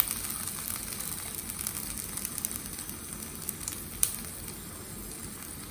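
Stuffed roti wrap cooking on a hot grill tawa, a steady faint sizzle and crackle running throughout with one brief louder pop near the end.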